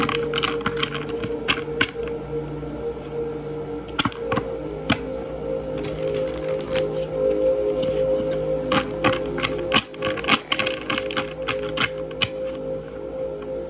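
Repeated crisp riffling and soft slapping of tarot cards being shuffled, close by, in irregular bursts over a low background hum.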